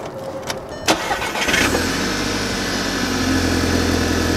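A 2012 Volkswagen GTI engine cranks and catches after a couple of clicks, then settles into a steady, close idle.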